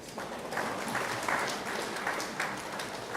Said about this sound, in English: San Fernando a round of applause, please.